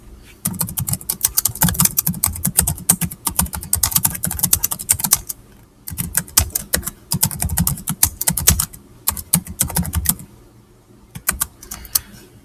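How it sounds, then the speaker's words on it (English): Rapid clicking on a computer keyboard as notes are typed, close and loud in several bursts with brief pauses between them. "So I'm going to type that in my notes."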